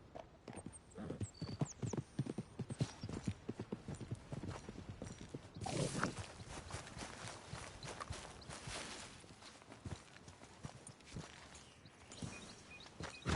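Horse hooves clip-clopping in Red Dead Redemption 2, a fast, steady rhythm of hoofbeats at a canter with a brief snort or whinny partway through, moderately quiet.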